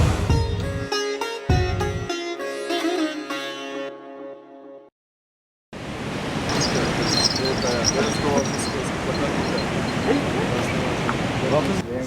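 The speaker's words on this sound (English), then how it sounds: "There's waves, glassy, it's good size." Glassy, good-sized ocean waves break at Gwadar Peninsula, Pakistan, as a steady, loud broadband surf roar after a few seconds of music and a short silence.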